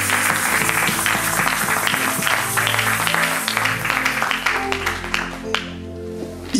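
A church congregation applauding, steady, loud clapping from many hands that fills the room and thins out toward the end, with organ or music tones underneath.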